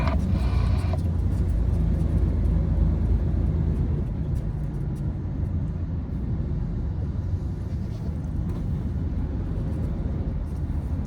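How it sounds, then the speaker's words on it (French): A car approaches on a road, heard as a steady low rumble of engine and tyres that swells faintly and stays in the background throughout, with no voices. "Voiture qui arrive."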